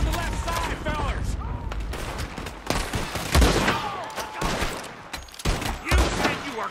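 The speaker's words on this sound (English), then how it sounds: "Just shoot, Micah!" Red Dead Redemption 2 battle with gunfire and cannon fire: rapid overlapping gunshots and heavy booming blasts crack in dense bursts, while shouting voices talk over the fighting.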